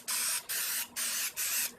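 Nonstick cooking spray hisses onto the edges of a baking pan in four short, even bursts with brief pauses between them, close and clear.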